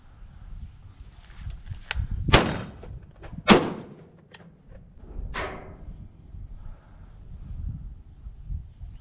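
Shotgun blasts during a pigeon hunt in Minnesota: two loud, sharp reports about a second apart, then a fainter third shot a couple of seconds later, each with a short outdoor tail over wind and low rumble.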